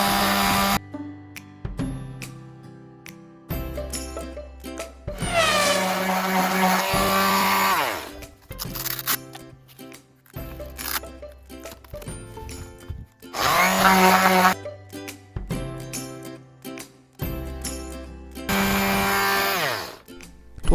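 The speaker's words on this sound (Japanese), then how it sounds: "次はサンダーで磨いていきます" An electric sander polishes the edge of a cut aluminum panel, the motor surging in loud repeated passes between brief pauses and clunks of handling.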